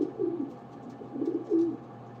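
Pigeons cooing inside a breeder loft, low soft rolling coos in two or three phrases, close and calm against a quiet background hum, no voices.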